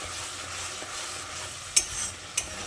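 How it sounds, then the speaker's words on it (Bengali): A spice paste is sautéed over low-to-medium heat for a moong dal dish, sizzling softly and steadily in the pan while two sharp clinks of a spoon striking the rim break through near the end. "এবার সব কিছু ভালো করে কষিয়ে নিতে হবে।"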